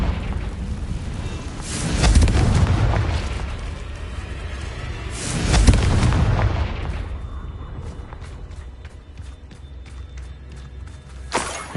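A Confringo fire spell explodes in Hogwarts Legacy, with two heavy booming blasts a few seconds apart, each swelling and rumbling away, then lighter ticking effects and a sharp final crack.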